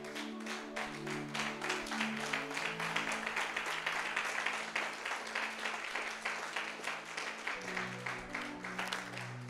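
A church congregation applauds the Lord with steady, rhythmic clapping that keeps going the whole time, while a sustained organ or keyboard chord plays underneath.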